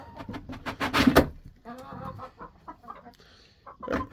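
Backyard hens cluck and squawk close by in short, uneven bursts, with a loud flurry near the start and quieter calls following on a small farm that also keeps ducks.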